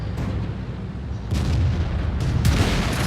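Artillery fire in a tank video game, a rumbling low backdrop broken by a few distinct booming impacts near the middle and end, with no talking.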